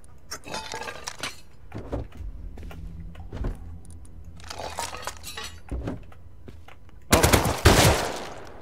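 Rapid gunfire from a recoiling gun in a first-person shooter, bursts of sharp cracks spread through the clip and ending in a loud, dense volley near the close.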